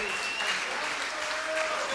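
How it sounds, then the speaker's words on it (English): Applause from a conference crowd at a closing ceremony rolls on as a dense, even wash of many clapping hands, with faint voices mixed in. "Can you give this team a big round of applause,"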